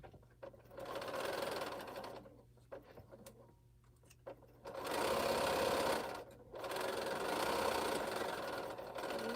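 A sewing machine stitches pieces of an Exploding Star quilt in three runs of steady mechanical whirring, with short pauses between them and no talk.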